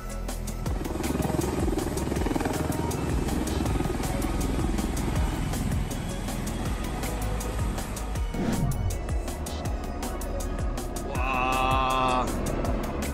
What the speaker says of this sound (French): un tiltrotor militaire du corps MV-22B Ospreys qui décolle verticalement d'un porte-avions au milieu de l'océan